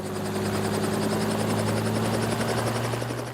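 A helicopter flies over a herd of elephants beside a wildlife reserve, its steady rotor drone loud and continuous throughout with a constant droning hum.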